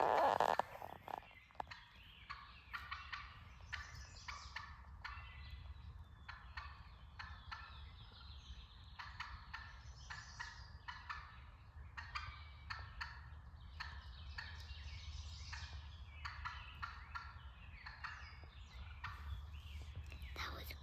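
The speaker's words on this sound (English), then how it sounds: "Now we got that gobbler out in front of us." A wild turkey gobbler gobbles in Pennsylvania hardwoods mixed with pines, with a loud gobble at the start followed by fainter calls, while hunters whisper quietly nearby.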